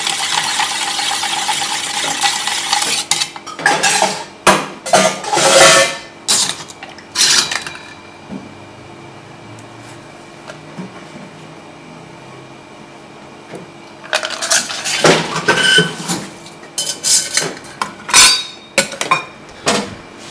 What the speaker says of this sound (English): We'll just stir that up just a bit,